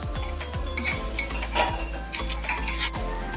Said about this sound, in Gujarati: હવે મરચાં આદુ લસણ બધું ખાંડ્યું છે નાખી દેવાનું